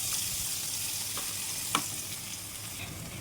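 Hot oil crackles and hisses steadily in a pan while okra fry is cooked, with a couple of sharp spitting pops breaking through the continuous close sizzle.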